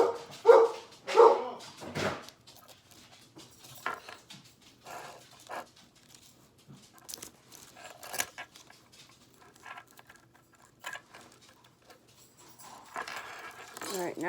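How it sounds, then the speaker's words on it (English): A dog barks several times in quick bursts near the start, then the sound drops to quieter background noise with occasional light clinks and a voice. "can you guys hear my dogs barking?"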